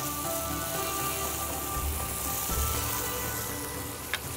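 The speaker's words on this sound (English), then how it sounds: "And now add the green chilies into it." Green chilies hit a hot pan while beef pasanday cooks, producing a steady, rain-like sizzle with a soft low thump of stirring partway through and a small clink near the end.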